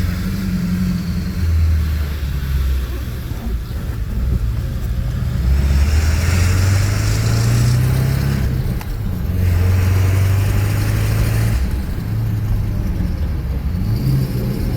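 A Ford F250 pickup truck's engine drones steadily from inside the cab while being driven with a stick shift, its low hum rising and falling through the gear changes, with no talking.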